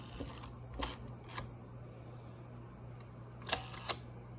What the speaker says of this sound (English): that is the functionality of the shutter and the aperture